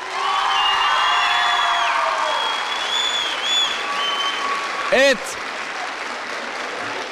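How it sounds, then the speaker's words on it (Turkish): Audience at a school debate final in Karatay cheering and clapping for a school, a sustained burst with whoops and voices, one speaking briefly over the noise. "Bir alkış alsın Sadettin Konevi."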